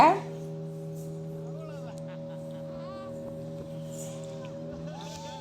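A motorboat on the water at Muttukadu drones at a steady, even pitch throughout the ride, with faint voices in the background.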